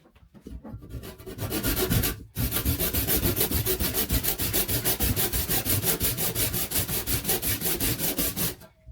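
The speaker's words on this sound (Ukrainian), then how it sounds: "Бачите, як пилка співає, як вона ріже." Freshly sharpened handsaw cutting through a clamped piece of wet, freshly cut birch wood, giving loud, steady rhythmic rasping strokes with one brief pause near the start, then continuous back-and-forth sawing close up.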